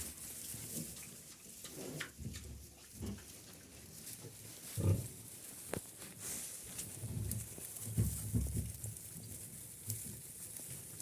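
A sow and piglets on a farm, with soft grunts and snuffling from the sow eating, plus scattered faint animal sounds and rustling close by.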